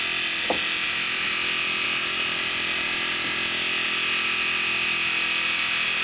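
A rewound Bosch 750W electric motor spins at about 2500 RPM on an 11-volt LiPo battery, giving a loud, steady, unbroken whir that holds constant throughout.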